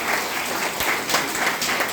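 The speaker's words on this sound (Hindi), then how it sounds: "एक जोरदार ताली होना चाहिए" An audience at a seminar applauds loudly, a continuous wash of clapping with no speech over it.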